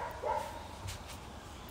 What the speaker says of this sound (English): And sorry for the dog barking in the background.